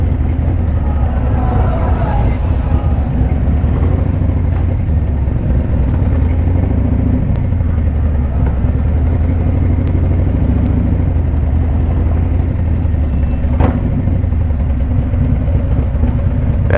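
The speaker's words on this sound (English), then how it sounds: "Boss Hoss motorcycle." A Boss Hoss motorcycle rides through Daytona in the morning, its deep engine droning steadily close by with wind rush over the rider, a rise and fall in pitch partway through, and occasional talk over it.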